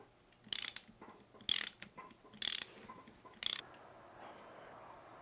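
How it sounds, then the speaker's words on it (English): A ratchet fitted with a 3/4 inch socket loosens bolts on the vibrator assembly side plate of a BTE tamper, making four distinct bursts of rapid clicking with short pauses between them, close and clear. "We'll use a 3/4 inch socket and remove the 4 bolts"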